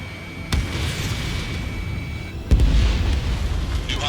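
Bombs exploding over a town during an air mission in the video game Ace Combat 7, two sharp booming blasts a couple of seconds apart over a steady roar of jet and battle noise.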